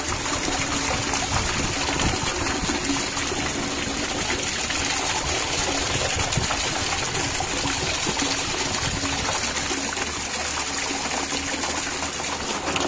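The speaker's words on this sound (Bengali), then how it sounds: "পানি দেওয়া হচ্ছে।" Tap water from a pipe streams into a rooftop catfish-farming tank in a continuous, even rushing splash, close and unbroken from start to finish, with no one talking.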